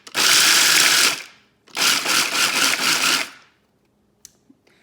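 A small manual pull-cord chopper minces walnuts in two quick bursts of whirring, rattling blade spin, each about a second long, followed by a few faint clicks.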